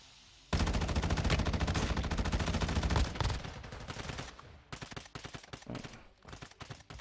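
Loud, dense automatic gunfire rattles continuously for a few seconds in the mobile shooter Warzone Mobile, then breaks into shorter bursts and scattered shots.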